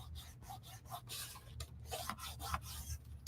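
Quiet, close rubbing of a hand pressing paper down to glue it in a paper craft project, a series of short scraping strokes in an uneven rhythm.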